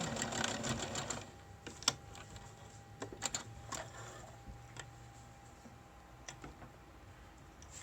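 A sewing machine runs a straight stitch on a fabric face mask, with a short burst of fast stitching followed by scattered clicks and taps of handling, fairly quiet and close.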